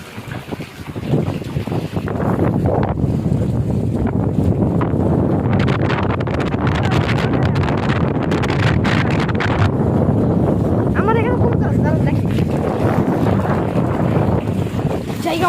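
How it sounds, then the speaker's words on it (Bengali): Strong wind blows across floodwater on a road, buffeting the microphone with a loud, rough, continuous roar that rises after the first second and stays heavy throughout. "অনেক বাতাস"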